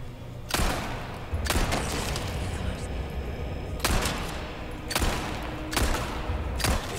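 Gunfire from Resident Evil 4 Remake: loud, sharp shots ring out one at a time at irregular gaps of about a second, over a dense, noisy game background.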